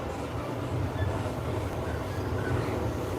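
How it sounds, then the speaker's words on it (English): Steady rumble of the Brightline passenger train running from Miami to Orlando, heard from inside the car as a continuous low drone with faint rail rattle throughout. "I am on a train, the Brightline train, and heading from Miami to Orlando."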